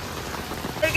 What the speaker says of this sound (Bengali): এখন কেন এত বৃষ্টি পড়তেছে?